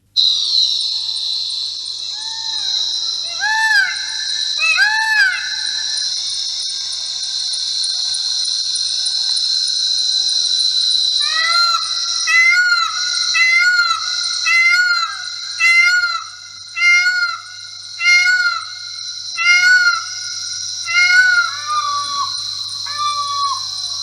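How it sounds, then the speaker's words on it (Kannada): Loud, repeated peacock calls, shrill rising wails in quick clusters, ringing out over a steady high electronic-sounding drone with no talking. "ಈ ನಮ್ಮ ನವಿಲು ಯಾವ ರೀತಿ ಕೂಗುತ್ತೆ ಅನ್ನೋದನ್ನು ನೀವೆಲ್ಲ ಕೇಳಿಸ್ಕೊಂಡಿದ್ದೀರಾ ಅಲ್ವಾ?"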